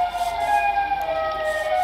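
Wailing siren of the Siren Head monster in Minecraft, a loud sustained steady tone with layered harmonics that holds throughout without any talking.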